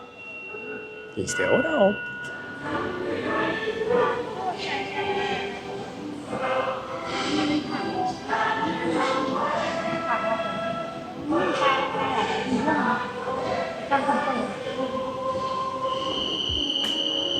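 Bangkok metro train carriage rumbling steadily throughout, with a sharp clack near the start and a constant mechanical hum, while people talk over it close by.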